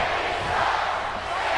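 Steady roar of an arena crowd in WWE 2K22, a broad, continuous wash of many voices chanting and cheering, fairly loud and even throughout with no break.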